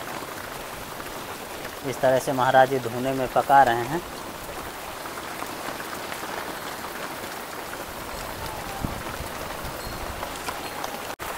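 Steady heavy rain hisses in the background while someone talks over it for a few seconds inside a hut in Chitrakoot, then the downpour continues on its own.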